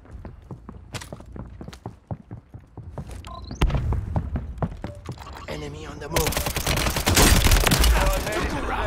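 Assault rifle fire in Call of Duty, with single sharp shots at first and then denser, louder bursts of gunfire mixed with footsteps and other battle noise.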